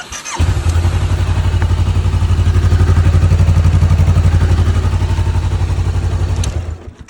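A 2017 Kawasaki Ninja 400 twin-cylinder motorcycle starts and idles loudly close by with a steady, throbbing pulse, then cuts off near the end.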